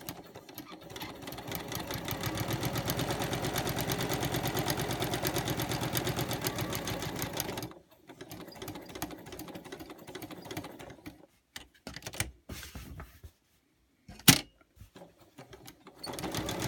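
A sewing machine stitches around the edge of a planner cover, running in a fast, even mechanical chatter for several seconds before breaking into short stop-start bursts and clicks as the fabric is turned.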